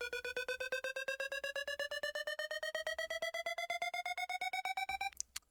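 A synth riser for an emotional progressive house track in FL Studio: fast pulsing tone stacks stepping steadily upward in pitch for about five seconds, then breaking off into a brief burst, alone with no voices.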